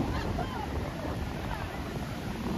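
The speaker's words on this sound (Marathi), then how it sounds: "समुद्र एकदम खवाळले आणि लाटा मस्त जोर जोर एकदम." Rough sea waves break on a beach in a continuous loud roar of surf, buffeted by wind noise on the microphone, with no clear talk.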